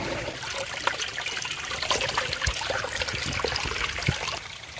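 Mustard oil poured onto a hot cooking stone gives a continuous close sizzling hiss with small crackles and pops, steady for several seconds with no voices.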